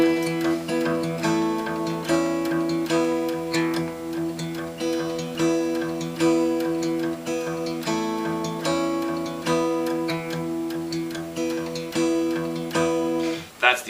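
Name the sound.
fingerpicked acoustic guitar intro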